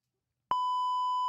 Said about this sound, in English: Let me beep it again.